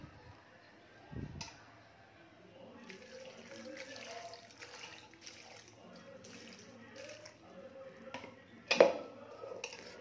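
Water poured into a thick curry with turmeric in a home kitchen, a faint splashing trickle beneath ongoing speech, quiet and close.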